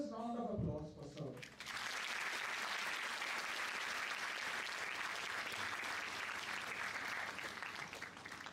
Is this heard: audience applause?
yes